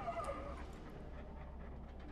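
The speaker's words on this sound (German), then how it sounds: "Da ist ein Hund drin." A dog in Dishonored 2 gives a few thin, high whimpers at the start, faint and close over a low steady rumble, then fades.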